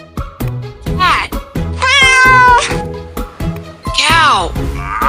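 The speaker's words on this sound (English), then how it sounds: "Cat." Domestic cat on a farm meowing repeatedly, several loud, close, drawn-out meows with rising and falling pitch, one long wavering call in the middle, heard alone without talk.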